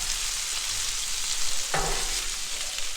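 Potatoes fry in real butter on a Blackstone griddle, a steady close sizzle throughout with a brief stir or scrape partway through.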